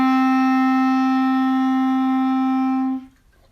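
A clarinet sustains a single low D with the left hand covering the next front hole, a steady clear tone held alone for about three seconds before stopping.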